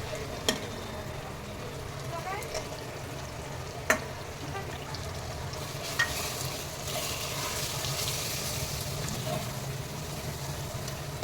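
Spices, turmeric, chili powder and Kashmiri chili, fry in a pot for mutton khichda, giving a steady sizzle over a low rumble with a few sharp clicks of a spoon against the pot.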